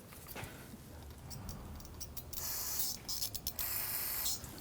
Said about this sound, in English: So a little tip, you can take some spray solvent,